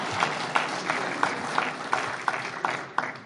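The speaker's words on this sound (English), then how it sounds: "And clap for that." A small audience at an AA recovery talk claps in a slow, regular rhythm, roughly three claps per second in unison, moderately loud and close, with no speech over it.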